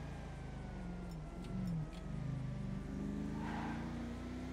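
Engine of a modified convertible Rolls Royce in GTA 5 steadily accelerating and shifting gears, a sustained droning hum that swells in pitch, heard alone.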